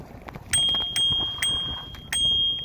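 A bicycle bell rings four times in bright metallic dings, spaced unevenly, each leaving a short ringing tail over faint outdoor background noise in a Canadian forest.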